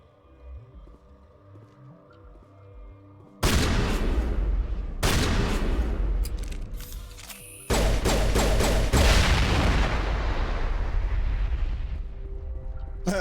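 Gunfire in Mass Effect 1 erupts after a quiet start into loud, sustained volleys of shots and blasts, close and booming, with a brief break before another heavy burst carries on to the end.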